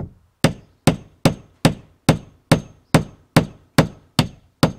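Hammer blows drive nails into timber while building a stud wall with natural wool insulation: eleven sharp, evenly spaced strikes, close and loud, each ringing briefly before the next, with no talking.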